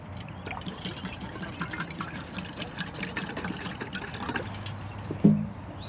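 Water pours from a single-walled Stanley canteen outdoors at a campsite, a steady soft trickle lasting several seconds, with a faint background hiss and a brief knock near the end.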